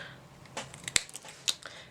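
Cardstock for a Stampin' Up slider card is snipped with a couple of short, crisp cuts over faint, quiet handling noise.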